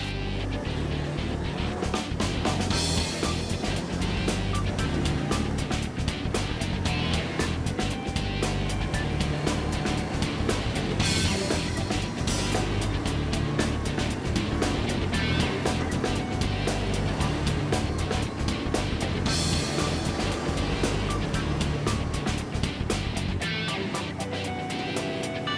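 A Can-Am Outlander off-road vehicle runs continuously, a steady engine drone with broadband rattle and dense clicking texture, fairly close, holding a constant level for the whole stretch with no speech.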